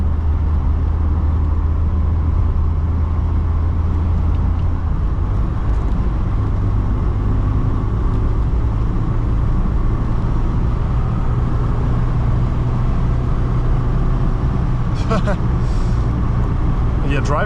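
Interior drone of a 2010 LADA 2107 1.6 with manual gearbox cruising on a highway in fifth gear: a loud, constant low engine and road rumble, with a brief rattle near the end.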